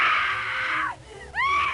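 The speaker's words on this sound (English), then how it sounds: "That blood-curdling scream." A loud, sustained scream from The 11th Hour, a 1995 DOS horror game, held for about a second before breaking off, then rising again in a second shrill, wavering cry.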